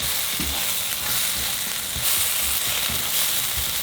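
Bread frying in a pan gives a loud, steady close sizzle, with occasional soft stirring thumps underneath and no one talking.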